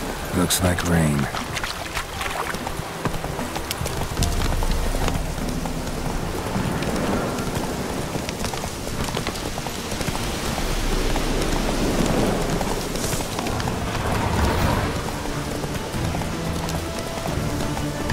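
Steady rain pours in The Witcher 3 near Fyke Isle, a dense continuous hiss that runs the whole time, mixed with hoof-like clopping and voices talking over it.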